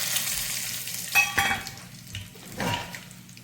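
Whole spices such as cinnamon, cloves and peppercorns fry with popped mustard seeds in hot oil for a mutton curry, making a loud crackling sizzle broken by a few metal stirring clangs.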